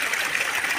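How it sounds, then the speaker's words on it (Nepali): A large waterfall near the Shree Siddha cave site in Bhimad, Tanahun, gushing and gurgling steadily, a continuous close wash of water filling the whole moment without any talk. "कति ठुलो झरना कलकल कलकल"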